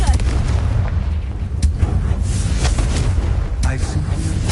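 A Confringo spell explosion in Hogwarts Legacy roars as a loud, dense, sustained rumble of booms and blasts with sharper bursts breaking through, filling the whole moment without any voice over it.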